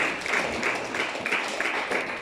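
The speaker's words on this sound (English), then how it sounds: "Let's clap our hands for Sister Desiree." A church congregation claps for Sister Desiree, a dense, steady wash of many hands with rhythmic accents recurring about every third of a second, sustained throughout.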